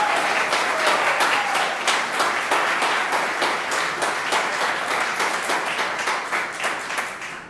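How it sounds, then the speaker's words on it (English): An audience at a church-related talk claps for an honored person, a strong, sustained round of many hands with distinct sharp claps, steady and fairly close for over seven seconds before easing slightly at the end. "I want you now to just give her a round of applause"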